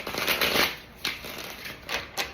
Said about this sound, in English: Just one shuffle because of my wrist